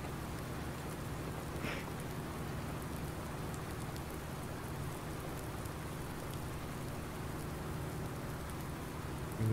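Steady rain from Farming Simulator 19 hisses continuously across the whole stretch, an even, soft wash of drops on surfaces with no voices.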